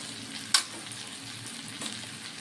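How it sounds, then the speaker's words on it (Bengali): Spices with coriander powder and Kashmiri chili powder frying in a pan for a potato and papaya curry, a soft steady sizzle with one sharp utensil clink near the start. "দিয়ে এখন কষিয়ে নিব তিন মিনিটের মতো আমি মশলাটা কষিয়ে নেব"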